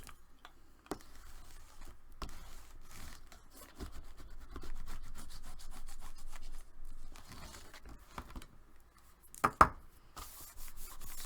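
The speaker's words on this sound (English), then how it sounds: "Okay, and then you're going to burnish that down." Scored paper fold on a handmade Valentine mini album being burnished down, faint dry rubbing and scraping strokes with scattered light taps and one sharper rub near the end, close and quiet, no voices.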